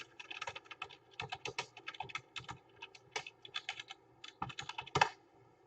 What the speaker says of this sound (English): I just went to Google, typed in FileZilla.